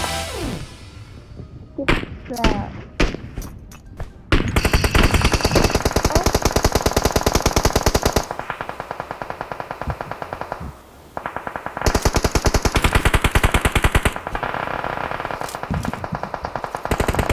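Gunfire rings out from both sides during a PUBG Mobile match: sharp single shots open, then long loud bursts of rapid automatic fire run almost continuously, with brief pauses and echoing cracks.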